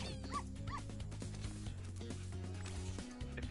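A dog yips and whimpers in a video game puzzle scene, giving a few short high barks and whines over steady game music.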